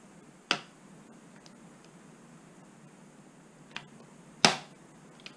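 Sharp, isolated cracks of a Lenovo laptop's hard plastic casing, about four snaps spaced a few seconds apart, two loud and two softer, against quiet room hiss.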